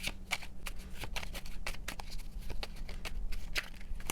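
Tarot cards are shuffled in quick, crisp riffling bursts, a close and continuous papery flutter.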